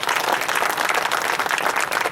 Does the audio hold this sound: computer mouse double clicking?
no